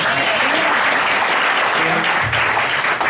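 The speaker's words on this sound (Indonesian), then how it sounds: "Tepuk tangan buat Bapak Ibu sekalian." Sustained applause from an audience at a business seminar, dense and steady throughout, with a few voices calling out faintly beneath the clapping.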